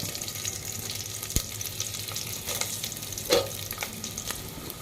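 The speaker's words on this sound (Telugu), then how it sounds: "ఇప్పుడు ఇవన్నీ రెడ్డిగా వచ్చేంత వరకు అయితే ఫ్రై చేద్దామండి" Red onions and garlic frying in a pan for gongura pappu, a steady crackling sizzle with a few sharper stirring knocks, close and moderately loud, no voices.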